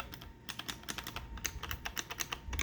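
Clicky buttons on a Pandora's Box arcade game console pressed in quick irregular bursts, sharp plastic clacks close up and fairly quiet, with no talk.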